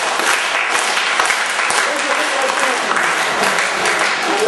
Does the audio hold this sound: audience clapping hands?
yes